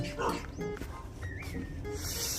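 A dog at a weekend farm, by the front gate, gives short yips and whimpers close by, mixed with continuous outdoor background noise and a few faint tonal chirps.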